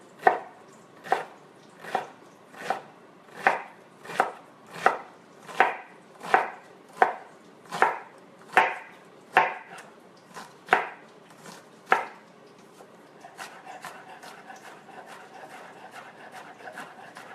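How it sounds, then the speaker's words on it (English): A kitchen knife slices straight down through an onion on a board, with about a dozen loud, evenly spaced cuts followed by softer, quicker strokes. "we're just going to slice straight down"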